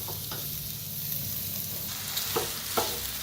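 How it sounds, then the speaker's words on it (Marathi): Potatoes tumble into a hot frying pan and get stirred, for homemade vada pav filling, giving a steady close sizzle with a few sharp scraping clicks of the spoon near the end. "आता ह्याच्यातच टाकूया आपण बटाटो."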